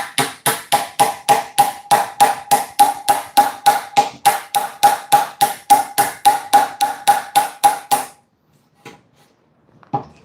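Steady, evenly paced mallet strikes drive a cheap store-bought chisel into wood, around thirty loud close knocks in a regular rhythm, then a pause with a few faint taps.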